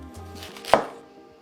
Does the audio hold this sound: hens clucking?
no